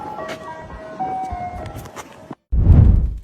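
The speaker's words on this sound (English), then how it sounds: "Next time you hear that cheerful jingle, ask yourself, is it coming to sell ice cream" An ice cream truck plays its cheerful tinkling jingle, a bright electronic melody over rumbling background noise, cut off abruptly and followed after a brief gap by a loud low rushing burst.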